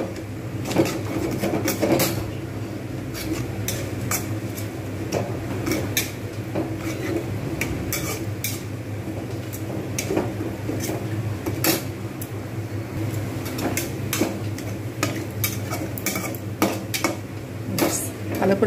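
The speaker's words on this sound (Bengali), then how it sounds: "ভালো করে এগুলো কষবো।" Ground roasted coriander, cumin, nutmeg and mace stir-fried with salt in a pan, with a steady metallic scraping and clinking of a spatula against the pan over a low sizzle, close and continuous.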